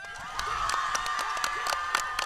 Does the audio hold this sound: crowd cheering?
yes